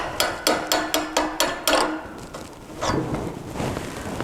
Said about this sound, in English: every time the hammer comes down, it hits this stop right here